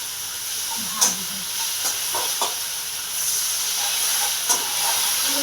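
Water splashed onto spices in hot oil sets off a loud, steady hiss and sizzle, broken by a few sharp clinks of a spoon against the pan.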